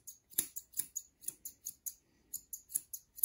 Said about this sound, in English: So I'm turning my curved scissors upside down.